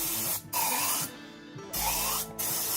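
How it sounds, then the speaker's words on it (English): An aerosol can of electrical cleaner sprays in three hissing bursts, close and loud, with short pauses between them. "Basically just spray this down,"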